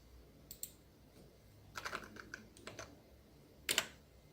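A few sparse keystrokes on a computer keyboard as an AutoCAD command is entered, faint and close, with one sharper key press near the end in a quiet room.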